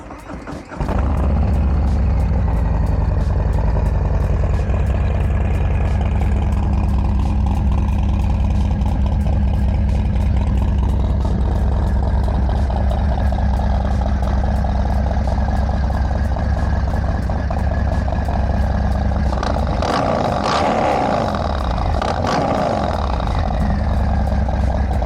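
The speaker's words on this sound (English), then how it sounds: "It definitely has that mean, throaty Harley-Davidson sound to it." A 2019 Harley-Davidson FXDR 114 motorcycle fires up after a brief crank and settles into a loud, deep, throaty idle close by, with a rise in revs near the end.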